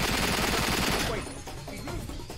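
Gunfire in the game 007 Quantum of Solace, a dense loud rattle of shots that cuts off abruptly, followed by scattered quieter shots and effects.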